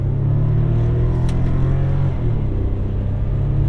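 A Bentley 12-cylinder engine with paddle shifters accelerates from inside the car, a loud, steady low rumble that holds throughout with a brief surge of whir early on.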